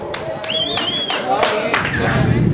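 Crowd clapping at a Supermono BDB Leggenda motorcycle race, Trofei MP Dynasty MES 2020 round 2, near and moderately loud, mixed with shouting voices and a sharp whistle.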